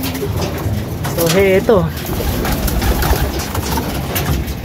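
A racing pigeon gives a clear, close coo with wavering rising notes, a short call amid a steady low rumble, with someone talking.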